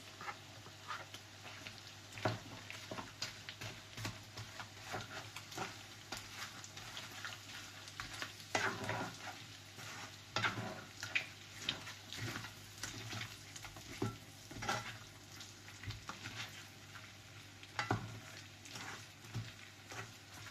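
Pork and onions sautéing in a pan, a steady sizzle broken by repeated stirring scrapes and clinks at an irregular rhythm, close and moderately loud with no voices.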